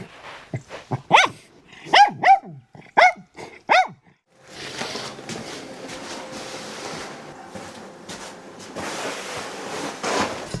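A dog barks in a quick burst of sharp, close barks, then settles into a lower rumbling growl under background noise around a rural homestead in Portugal.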